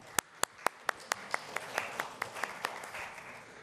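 An audience at a presentation event welcomes a speaker with applause, starting as a few distinct loud claps in a steady rhythm and thickening into scattered clapping from a modest crowd in a hall.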